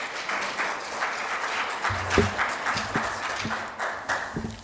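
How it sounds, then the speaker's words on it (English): Applause for a guest at a Free State Legislature committee meeting, a steady clapping texture running through the clip, with some low thumps and knocks underneath. "Can you also give him another round of applause"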